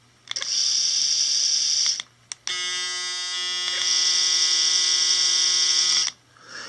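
Braun Series 7 790cc electric foil shaver runs in two bursts, a short buzz then a longer steady high-pitched whine with a strong motor hum, loud and close with no talking.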